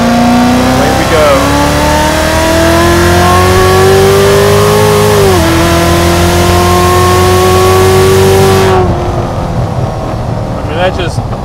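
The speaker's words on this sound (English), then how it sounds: "I'm just going to do just like an easy 2500 RPM roll on here in fourth gear" Hennessey HPE1000 Z06 Corvette pulling hard in fourth gear on a track, a loud rising engine note climbing steadily with a brief dip midway before cutting off near the end.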